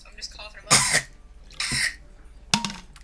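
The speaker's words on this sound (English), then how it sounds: "I'm just coughing up like little crumbs and getting stuck in my throat." Three short, harsh coughs spaced about a second apart, close to the microphone, with quiet background between them.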